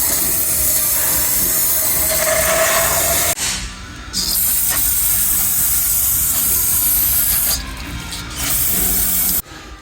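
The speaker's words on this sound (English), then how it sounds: "We're going to go ahead and hit it with some brake clean and wash all that crap out." Aerosol brake cleaner hisses in long loud bursts onto a CMC 83HD spider lift outrigger lock pin, close up, with short pauses between sprays.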